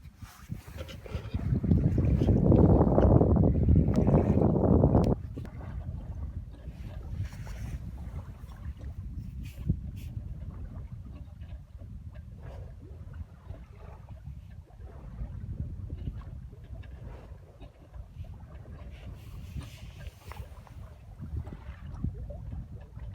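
A sailboat glides slowly through fog past Anacapa Island, steady low wash of water and soft wind rumble throughout, with a louder surge of rushing water in the first few seconds before settling into a quiet, even drift.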